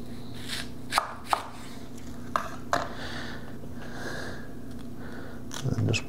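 A knife chopping through an onion being cut for beer-battered onion rings, giving a few sharp, sparse cuts on a board at close range, with no talk.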